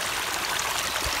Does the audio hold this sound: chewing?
no